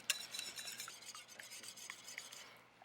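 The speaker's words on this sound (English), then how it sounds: "So 2 eggs in a bowl. And you just break those up." Two eggs are beaten in a bowl, heard as a quiet, rapid series of light whisking taps and scrapes close by, with a louder clink at the very end.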